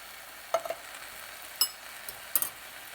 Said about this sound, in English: now I'm just going to give them a good mix before I add in the canned goods